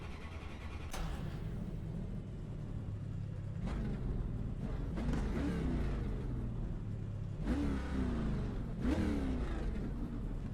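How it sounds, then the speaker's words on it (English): Race car engines in the iRacing video game, ARCA Menards cars at Kansas Speedway, whine and rumble at a distance, with several revving surges and passing roars rising and falling over a steady engine drone. "Oh, I just love the sound of these engines."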